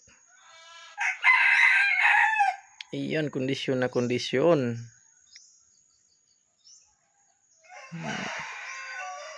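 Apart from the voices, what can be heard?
red junglefowl rooster crowing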